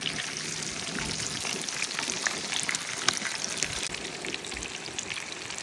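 Chicken frying in oil on a home stove, an even, continuous crackle and sizzle at moderate volume with no talk.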